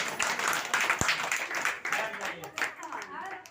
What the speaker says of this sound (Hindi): तालियां बजाएंगे प्रभु